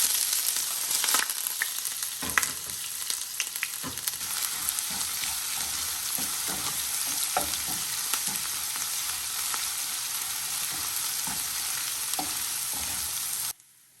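Crushed ginger and garlic frying in hot oil for a Kerala-style sardine curry, a loud continuous sizzle with scattered stirring clicks and scrapes throughout.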